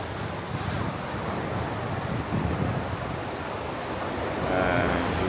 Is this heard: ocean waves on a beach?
yes